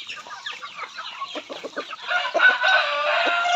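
Native chickens in a play range cluck in a close cluster of short repeated calls, building into a louder, denser chorus of overlapping clucks toward the end.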